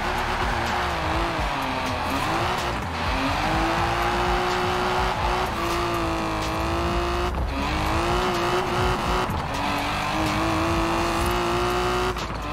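Mercedes-Benz with a swapped-in V8 in Forza Horizon 4, a loud continuous engine drone that rises and dips through repeated rev cycles and gear changes, close and unbroken for the whole stretch.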